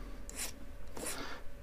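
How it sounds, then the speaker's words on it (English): Clear-coated aluminium being scuffed by hand, with two short, close, rasping strokes over a low background hum. "is just scuff it up, because it looks like it's got some type of clear coating on it"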